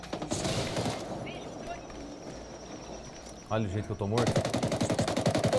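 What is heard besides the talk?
gunfire in the video game Ghost Recon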